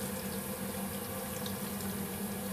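Thickener solution is poured little by little into a cooking pan, giving a soft, steady liquid pouring and trickling wash at low level, with a faint constant hum beneath and no talking.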